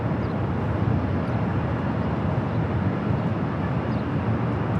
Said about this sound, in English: Looks like we got Condor heading up here for north side and takeoff